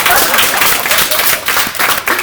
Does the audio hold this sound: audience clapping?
yes